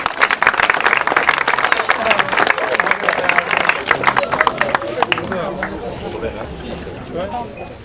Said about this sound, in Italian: un applauso per le comparse